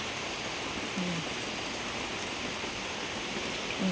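Steady rain falls outdoors around potted caladium plants, making an even, continuous hiss with no pauses.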